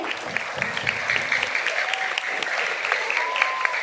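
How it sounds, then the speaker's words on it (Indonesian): A primary school class joins in applause during a morning assembly, quick clapping with sharp individual claps standing out, fairly close and continuous for a few seconds with no talk. "Mari kita berikan tepuk tangan untuk kelas 6E."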